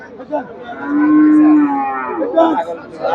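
A two-toothed Friesian cross bull at a busy cattle market gives one long, loud, close moo that swells and holds, followed by shorter grunting calls.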